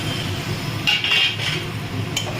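Prawns tipped into a pot of simmered potatoes for a Bengali prawn malai curry, a short clatter of metal and utensil clinks over a steady low cooking bed, close and fairly loud, no talk.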